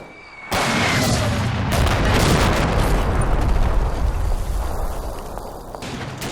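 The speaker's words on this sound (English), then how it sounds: "This is helped immeasurably by an artillery barrage." An artillery barrage in the WWII tactics game Combat Mission: Red Thunder opens with a sudden loud blast, then a dense, continuous roar of overlapping shell explosions and rumbling impacts that gradually eases toward the end.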